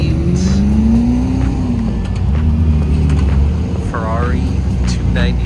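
A BMW i8 pulls away from a supercar rally start line, engine droning loudly and close amid surrounding traffic and crowd noise, with people talking throughout.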